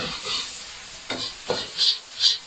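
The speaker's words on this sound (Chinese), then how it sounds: "热锅下花生油爆香蒜蓉" Minced garlic fries in hot peanut oil in a wok, with a soft sizzle under several brisk scraping stirs. The stirs grow louder and more distinct toward the end, and nobody speaks.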